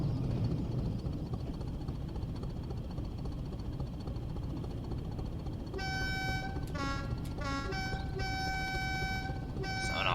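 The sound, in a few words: diesel train horn in video game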